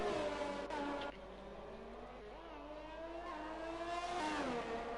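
Race car engines in a racing video game, a whining engine note climbing and dropping through gear changes, fairly quiet and continuous.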